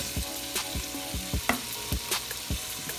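Sausage sizzles in a pan with chicken for Cajun chicken pasta, a constant hiss punctuated by regular, evenly spaced stirring scrapes about twice a second, close and clear with no talking.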